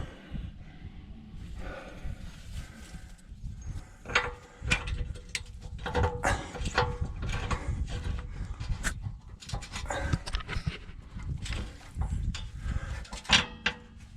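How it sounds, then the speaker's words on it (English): A bolt is worked through a shock absorber mount during a shock replacement on a vehicle, giving irregular metallic clicks, scrapes and ratcheting knocks close by over a steady low rumble, with a dog panting nearby. "About to stick the bolt in."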